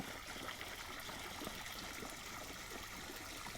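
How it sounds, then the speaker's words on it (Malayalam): Faint, continuous trickle of water flowing out from a burst pipe, a soft gurgling stream with small splashes throughout and no talking. "തറ കലങ്ങിയിട്ട് പുറത്തേക്കെല്ലാം വെള്ളം വരുന്നുണ്ട്"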